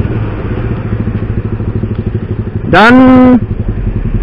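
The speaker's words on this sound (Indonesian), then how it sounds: "Suara knalpotnya tetap bulat" A motorcycle exhaust gives a steady, rounded, throbbing idle close up, with a man's short spoken word cutting briefly across the engine.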